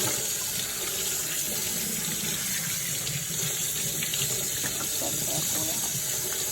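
Water runs from a kitchen sink faucet in a steady close hiss and splash, an unbroken rush that lasts throughout at moderate loudness.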